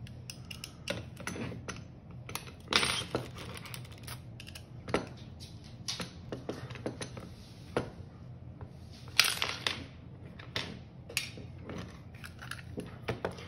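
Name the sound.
unscrewing a Phillips head screw on a Hi-Capa airsoft pistol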